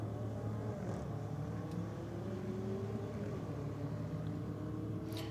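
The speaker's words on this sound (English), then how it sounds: "Falcon taking on the BMW." A Ford Falcon drag racing a BMW X5 with an exhaust on a drag strip, engines droning and revving from a distance, with rising tones as the cars accelerate down the track.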